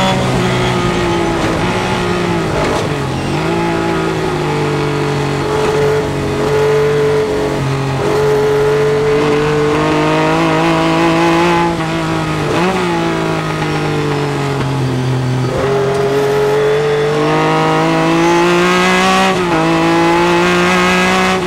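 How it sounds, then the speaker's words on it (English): A Ferrari 246S Dino race car at the Goodwood Revival 2003, heard from on board with its engine loud and close, revving hard through repeated rising and falling gear changes under sustained high revs. "See the rev counter just about up to maximum revs in top before we brake."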